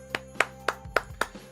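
Applause effect on a show: six crisp, evenly spaced claps or hits of short bursts, moderately loud and isolated, with a low tonal swell underneath near the end.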